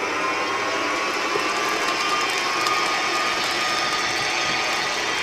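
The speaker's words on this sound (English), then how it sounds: "Get that mixer in" Electric hand mixer whirring steadily and loud while beating eggs into butter for a sponge cake batter, a continuous high whine with no pauses and no talking.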